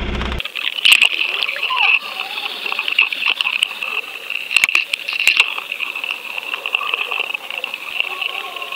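An underwater camera is dropped over the side of a fishing boat into the water while fishing for halibut, giving a sharp splash followed by sloshing and bubbling with a steady tone beneath.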